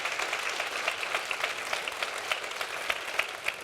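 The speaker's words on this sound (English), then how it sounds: "Now, loud applause." Conference audience at the House of PMO Conference breaks into sustained applause, dense clapping with sharper individual claps standing out, fairly close and even throughout.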